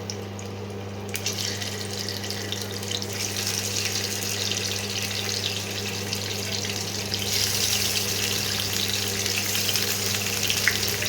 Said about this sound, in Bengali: এবার তেল গরম হয়ে এসছে, এবারে মাছগুলোকে এক এক করে ছেড়ে দিচ্ছি।